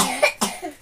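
A woman coughs while unwrapping a New Year's gift at home, with two sharp, close coughs followed by a softer third.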